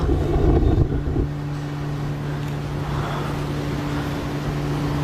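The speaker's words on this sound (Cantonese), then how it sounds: "突然間扯風咯" A sudden gust of wind buffets the outdoor scene at night on a mountain, a loud rumbling blast at first that settles into a steady broadband rush with a faint hum beneath.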